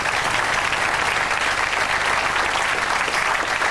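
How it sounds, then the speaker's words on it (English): A large audience at a televised fundraising event applauds loudly and steadily, a thick, even wash of clapping hands that goes on without a break and with no voices standing out. "please give these two a round of applause"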